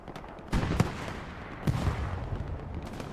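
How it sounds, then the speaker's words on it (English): Rockets land in the Hell Let Loose WWII shooter, with two distant clusters of sharp explosive cracks and rumbling thuds over a steady ambient rumble. "Rockets landing just a little short again."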